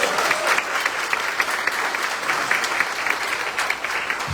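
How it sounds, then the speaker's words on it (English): A crowd applauds at a Marine Corps ceremony after a staff sergeant is promoted. The clapping is steady and dense throughout, with no voices over it. "let's give her a round of applause"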